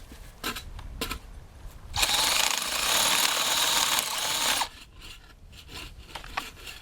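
Sandpaper rubbing a wooden part of a portable round house, brief scuffs followed by one sustained, loud scratchy stroke lasting a few seconds, then lighter intermittent rubs, close up.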